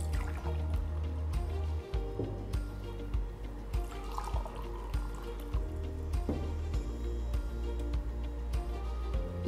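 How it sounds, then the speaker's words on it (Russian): Hard water poured into measuring glasses, 100 ml per glass, with steady pouring and splashing and light clinks of glass, close by and with no voices. "Теперь в каждый стакан мы наливаем по 100 мл подготовленной нами, уже проверенной жесткой воды."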